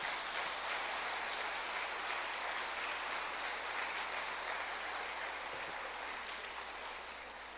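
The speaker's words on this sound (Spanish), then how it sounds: "Un aplauso de nuevo para las mujeres, ¿no?" Church congregation applauding women on International Women's Day, a sustained, even wash of many hands clapping that fades slightly toward the end, with no talk over it.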